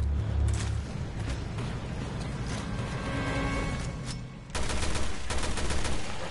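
Magnum fire in Resident Evil Revelations 2: a few sharp gunshots with sudden broadband cracks, the loudest near 4.5 s, amid rattling game sound effects at moderate level.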